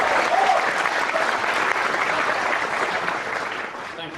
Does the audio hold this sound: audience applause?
yes